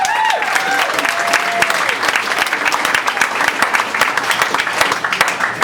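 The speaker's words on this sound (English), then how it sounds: "give yourselves a round of applause for coming out and supporting these guys" Loud, crackling audience applause with whoops at a stand-up comedy competition final, sustained throughout with a rising whistle-like cheer at the start.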